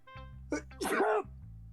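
One sharp sneeze bursts out close by, preceded by a quick intake of breath, over a low steady hum.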